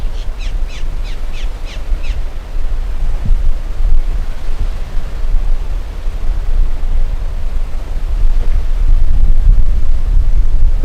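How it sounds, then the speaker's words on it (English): Strong wind blowing across an open spot beside Miami International Airport, a loud steady roar and rumble buffeting the microphone throughout, with a few faint crow caws early on. "The wind picking up just now."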